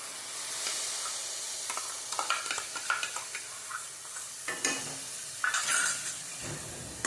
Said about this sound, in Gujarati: હવે આપણે નાખી દઈશું ટમેટાની પ્યુરી